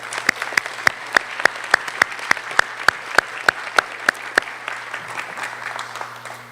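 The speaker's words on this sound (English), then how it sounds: "Let's give her a round of applause" Audience at a Fannin County Schools retiree recognition applauds Ms. Brooklyn Cole with strong, evenly paced rhythmic claps over a softer clapping bed, the beat dissolving into scattered, fading applause near the end.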